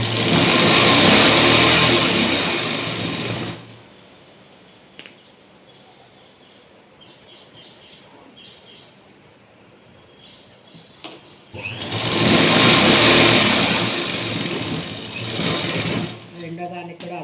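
A sewing machine stitches a straight-cut blouse fabric in two loud, steady, close bursts separated by a quiet pause.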